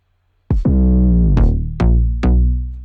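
In an Afrobeats mix, punchy kick drum hits land together with a deep, sustained bass line. Four strong attacks come in an uneven rhythm, each followed by a ringing low tone.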